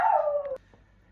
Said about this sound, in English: Sorry about that, my dog. It's barking time.